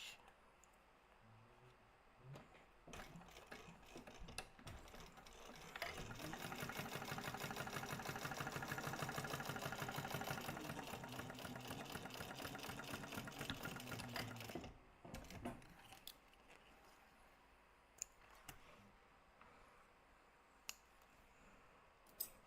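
Sewing machine running steadily while top stitching a crossbody bag, a continuous mechanical whir lasting about nine seconds, framed by quieter handling clicks and rustles before and after.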